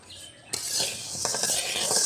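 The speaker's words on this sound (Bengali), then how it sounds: "কয়েক মিনিট লো আঁচে ভেজে নিলেই মাসকলাইটা ভেজে নেওয়া হয়ে যাবে" Mashkalai (urad) dal dry-roasting in a pan on low heat, with faint scraping and stirring clinks of a utensil against the pan over a soft, steady hiss.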